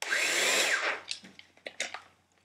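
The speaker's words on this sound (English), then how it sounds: "NiCad planer." Old Bosch NiCad cordless planer whirs up and winds down in a brief close burst, followed by a few light clicks and knocks.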